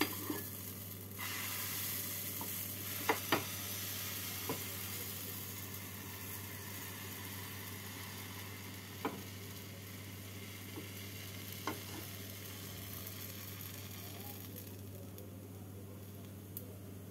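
Chicken keema wrap flatbreads fry in oil with a soft, continuous sizzle, a steady hiss heard close and low in level, broken by a few faint clicks of a utensil, with no talking.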